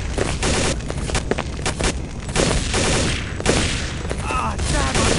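Dense, continuous gunfire and explosions from a Minecraft remake of a Counter-Strike Condition Zero motorcade assault mission, loud overlapping bursts with booms throughout, game voices shouting amid the battle.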